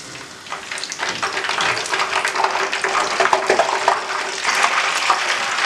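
Gluten-free doughnuts frying in a pan of hot oil, a steady dense sizzle and crackle that holds at an even, fairly loud level throughout with no voices.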